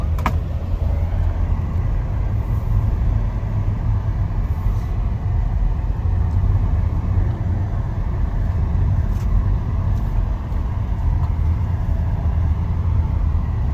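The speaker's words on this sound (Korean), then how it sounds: "그 뒤에는 뭐 벤츠를 비롯해서 여러 차들이 줄줄이 사탕으로 지금 올라오고 있습니다" A line of cars, a Mercedes among them, climbs a hill on a mountain road to Hekai in Yunnan, giving a steady, loud, continuous drone of engines and tyres with no clear breaks.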